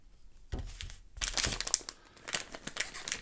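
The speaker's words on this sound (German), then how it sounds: "Ich nehme die Tüte, die nicht ganz so kaputt ist für euch." Plastic bag crinkling and rustling as it is handled while unpacking a PlayStation 5 RGB stand, coming in irregular bursts of crackle close to the microphone.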